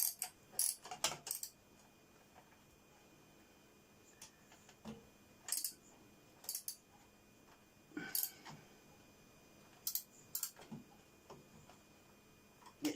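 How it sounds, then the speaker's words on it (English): A ratchet wrench works on car exhaust manifold bolts in a cramped engine bay, with short bursts of quick clicking separated by pauses and quiet handling noise, fairly faint, and no talking. "Make sure I've got the ratchet going the right way around"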